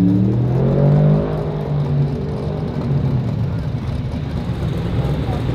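A 1937 Chevrolet hot rod with a military aircraft theme, parked at a street rod nationals show, rumbles nearby with its engine pitch dropping early on, then settles into a steady drone under ongoing talk.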